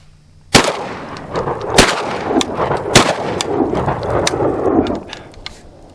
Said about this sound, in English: I'm going to go ahead and shoot these rounds since I got one chambered